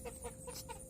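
Young birds clucking like chickens, a few soft, short chirpy clucks in quick succession, faint and close, with no talking.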